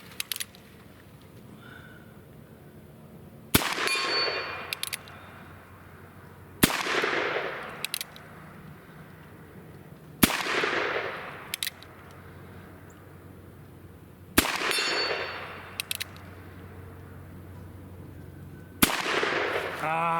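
A Ruger Super Blackhawk .44 Magnum revolver fires light loads outdoors, with six loud, sharp shots spaced a few seconds apart, each trailing off in a reverberating echo.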